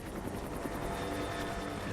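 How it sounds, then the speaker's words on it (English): A helicopter lands in the video game Rise of the Tomb Raider, a faint, steady rotor thrum with a rapid pulsing beat that stays distant and unbroken. "A helicopter landing there."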